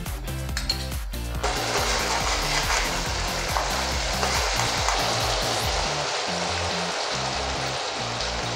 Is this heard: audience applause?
no